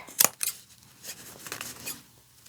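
Strong scissors trim through the thick backside of denim jeans while the jeans are upcycled into bib overalls, with several close, crisp snips and crunching cuts at an uneven rhythm and no talking.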